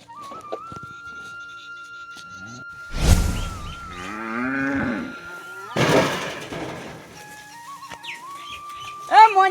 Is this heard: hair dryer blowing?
no